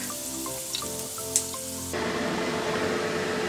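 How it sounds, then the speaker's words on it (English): Swedish meatballs brown in a pan; a soft sizzle under tonal background music swells into a fuller, steady crackling hiss halfway through. "Then you put your next batch of meatballs in and you brown them all"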